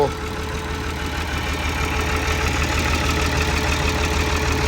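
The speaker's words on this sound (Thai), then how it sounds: "ที่ดับเป็นเครื่องอิซูซูหกสูบนะครับโทโบ" Isuzu six-cylinder turbo diesel engine of a Hitachi 200-2 excavator running at a steady idle, a continuous close, loud low rumble with a slight knocking texture.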